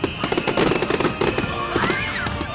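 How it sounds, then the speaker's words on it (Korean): Fireworks bursting at a Japanese hanabi summer festival, a dense run of loud cracks and pops with whistling trails, crowd voices mixed in. "넓은 도화지에 물감자락은 화려한 불꽃 발사."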